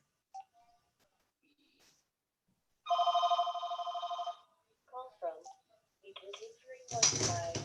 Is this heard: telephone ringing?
yes